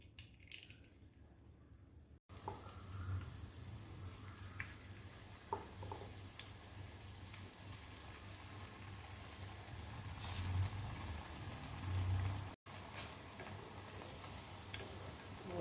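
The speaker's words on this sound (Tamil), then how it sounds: "இப்போ இதை நல்லா பொரித்து எடுத்துடலாம்" Baby corn fries frying in a small amount of oil over medium heat, giving a steady soft sizzle with faint ticks and pops throughout, close and fairly quiet, with no talking.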